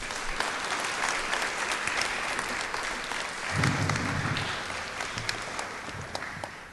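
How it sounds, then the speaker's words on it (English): Audience at a school desegregation anniversary event applauds warmly, sustained clapping from many people throughout, with a brief low murmur or shuffle midway, fairly distant in the room. "Please give a warm round of applause to Mr."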